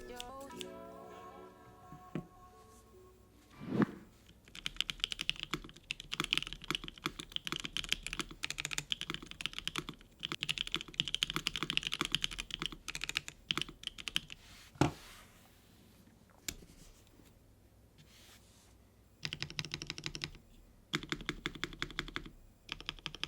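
Someone types on a Fruitbar40 mechanical keyboard with dense, continuous clacking keystrokes, close up and clear. Sharp louder thocks mark the larger keys, short pauses fall between runs, and no one speaks.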